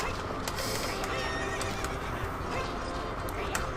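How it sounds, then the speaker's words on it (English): A horse in the video game Zelda: Ocarina of Time whinnies and clip-clops along at a gallop, a continuous game sound with some faint background noise. "he has a horse, but it's not very fast"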